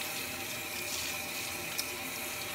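Tap water runs steadily into a sink while beets are rinsed, a continuous close hiss and splash with no talking.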